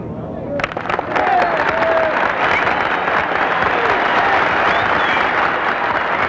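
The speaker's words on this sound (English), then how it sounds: "Deserved applause for Jim Simons, who led after the third round at 3 under" A golf gallery at the final round of the 1971 U.S. Open breaks into applause after a moment of quiet, swelling quickly into sustained, dense clapping from a large outdoor crowd.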